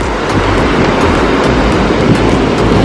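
Large ocean waves break and wash onto a town beach on a cold, overcast day, a loud, continuous roar of churning surf close by with no voices.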